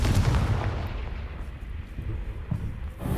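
Booming spell blasts from Confringo and Bombarda in the video game Hogwarts Legacy, a heavy explosive burst at the start followed by a rumbling tail and another thump near the end.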